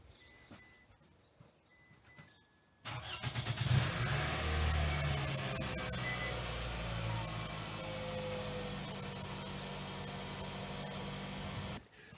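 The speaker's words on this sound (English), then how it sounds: "I'm going to turn on the engine now" The engine of a Toyota Alphard starts abruptly after quiet, revs briefly, then settles into a steady, loud idle that runs on until it cuts out near the end.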